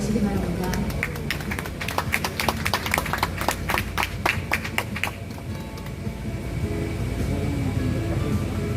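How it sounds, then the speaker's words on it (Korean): A crowd at a commemoration ceremony for Korean War abductees gives a National Assembly member a welcoming round of applause. The clear, rapid clapping peaks for a few seconds, then fades into hall noise and murmur. "김건 국회의원님을 따뜻한 박수로 맞이해 주시기 바랍니다"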